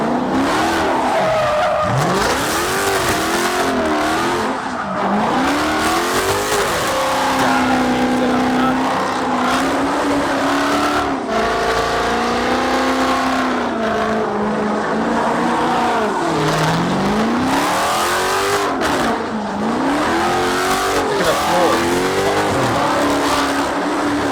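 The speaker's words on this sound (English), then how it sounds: "Gold Dodge Charger started putting on an insane show. Burnouts, donuts, the works." A gold Dodge Charger doing burnouts and donuts, its engine revving and falling in long sweeps while tires squeal and screech continuously for over twenty seconds, loud and fairly close, with some faint voices underneath.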